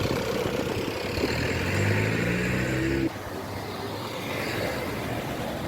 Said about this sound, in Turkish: Bulgurca dolmuşu buradan geçiyormuş arkadaşlar